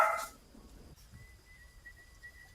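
A dog lets out one short, loud bark right at the start, then a quiet indoor room with faint background noise follows.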